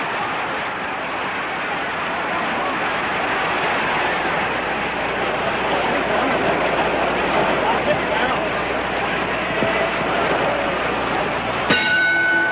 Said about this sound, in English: There's the bell ending round 14